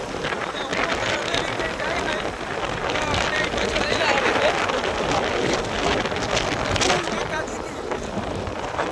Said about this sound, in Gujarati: ફૂલ વરસાદ અને ફૂલ કરતા જાય જો ફૂલ વરસાદ આવે અત્યારે રોડ ઉપર